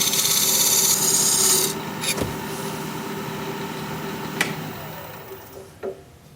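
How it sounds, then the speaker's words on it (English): Diamond point tool cutting a dovetail into the inside of a small wooden cup spinning on a lathe, a steady rasping scrape for the first couple of seconds, then quieter rubbing with a few sharp clicks and taps. "Now I use the diamond point tool to put a dovetail on the inside of this"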